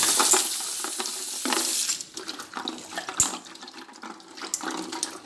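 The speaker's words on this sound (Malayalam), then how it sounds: "അത് നമുക്ക് നന്നായിട്ടൊന്ന് കഴുകാം." Jackfruit seeds being washed in water, sloshing and rattling in a vessel with splashes and hard little clinks, steady at first and then softer and more scattered.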